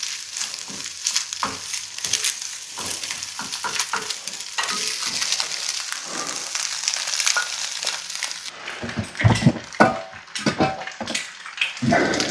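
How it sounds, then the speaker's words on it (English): Egg whites fry in a pan with a steady close sizzle, broken by scraping and stirring clatter; near the end a dog barks a few times nearby. "got the egg whites cooking up here"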